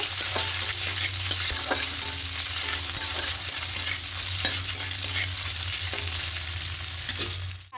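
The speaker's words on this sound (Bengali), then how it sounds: "একটু লাল করে ভেজে নেব" Steady, loud sizzling of food frying in hot oil, with a constant low hum and occasional stirring scrapes throughout.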